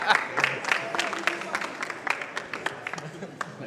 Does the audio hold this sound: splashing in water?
no